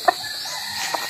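A chicken gives a couple of short, sharp clucks, one at the start and one near the end, over a steady hiss of background noise.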